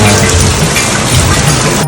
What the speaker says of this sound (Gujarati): વરસાદ આપણે જોરદાર આવે છે અહીંયા સુરતની અંદર